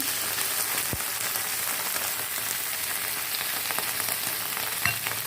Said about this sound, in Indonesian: Kita tumis-tumis hingga cabai gendotnya layu ya.